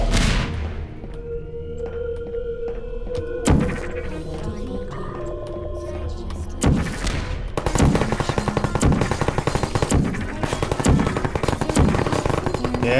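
Video game gunfire in Factum Solus: loud single shots give way to long rapid bursts of automatic fire, close and sustained, mixed with game effects.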